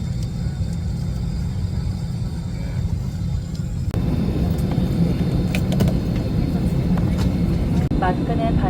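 Airplane cabin after boarding, a steady low engine and air rumble fills the space throughout, with a voice speaking over it and small cabin noises near the end.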